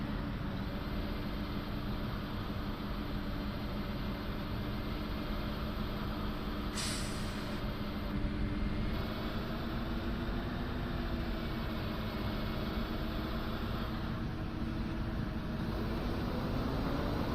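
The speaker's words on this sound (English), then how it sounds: "It's a loud engine fan." A loud engine cooling fan roars in a constant broadband whoosh over a low engine drone, with brief hissing bursts breaking in partway through.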